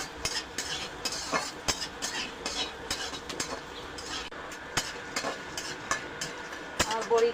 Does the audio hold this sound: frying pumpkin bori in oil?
yes